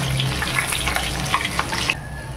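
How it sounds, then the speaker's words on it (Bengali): Pieces of katla fish fry in hot oil in a pan, a dense, steady sizzle with crackles and spatters popping throughout, close and loud, ending abruptly near the close; no one talks. "মাছটা এক পাশ ভাজা হয়ে গিয়েছে, এবার আমি অপর পাশটা ভেজে নেব।"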